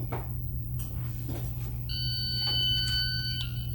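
An electronic start beep plays back from a shooting drill recording, a steady high-pitched tone lasting about a second and a half over a constant low hum.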